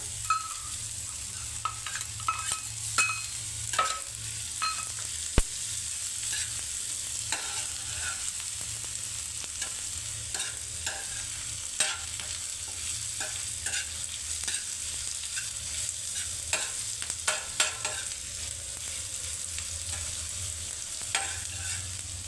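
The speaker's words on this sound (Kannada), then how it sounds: "ಇವಾಗ ನಾವು ಇದಕ್ಕೆ ಕ್ಯಾಪ್ಸಿಕಮ್ ಹಾಕ್ಕೊಳ್ಳೋಣ. Cube cut ಮಾಡಿಟ್ಟಿರೋ" Cubed capsicum frying in a pan after onions turn golden brown: a steady low sizzle with frequent spatula scrapes and clinks across a long stretch, plus one sharp knock, no talking.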